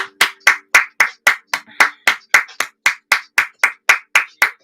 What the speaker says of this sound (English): some of you needed that hand clap right there